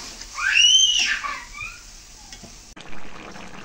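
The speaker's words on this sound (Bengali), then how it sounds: "দিয়ে দিচ্ছি পরিমাণ মতো জল" Water is poured into a pan of brinjal and potato curry cooking with small mola fish, giving a bright splashing pour in the first second and a half that fades, followed by a short clatter near the end.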